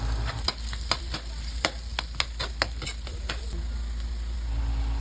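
Crab sautéing in butter with onion in a pan gives a steady sizzle and frying hiss, with repeated stirring scrapes and knocks at an uneven rhythm, close and fairly loud, and no talking.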